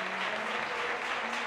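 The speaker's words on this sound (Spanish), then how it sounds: "Aplausos para el capi." A crowd at a football match applauds the team captain as he is substituted off, a steady, continuous patter of clapping heard from a distance without speech.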